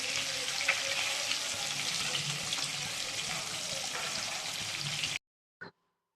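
Fish frying in a pan, a steady close hiss and crackle of hot oil lasting several seconds before it cuts off, followed after a brief silence by a short faint noise.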